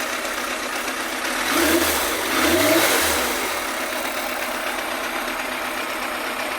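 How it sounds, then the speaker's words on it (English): Yamaha FZR1000 EXUP motorcycle engine idling, then revved twice in quick succession, each throttle blip swelling and falling back to a steady idle drone, heard up close. "let me rev the bike a bit"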